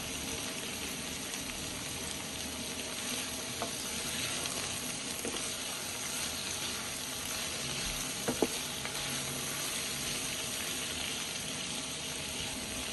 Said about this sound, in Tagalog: Next po ay ilagay natin ang ating red bell pepper. And continue stir frying po ang ating mga veggies.